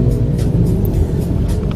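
Evening rush-hour traffic jam on a Jakarta road in Fatmawati, a dense close rumble of car and motor engines idling and creeping, steady and loud with faint higher hiss on top.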